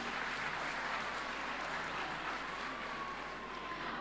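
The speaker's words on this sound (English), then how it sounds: "A huge round of applause." Audience applause at a school annual day follows an award announcement for teachers, a soft, even roar of many hands clapping that holds steady for four seconds and sounds somewhat distant.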